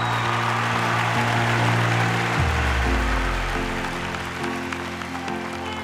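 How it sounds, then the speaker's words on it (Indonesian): Studio audience applauding singer Wina on an Indonesian stage show: a broad wash of clapping over sustained musical tones and a deep shifting bass note, holding steady with no voices. "Saya ingin penonton memberikan tepuk tangan untuk Wina Majalengka."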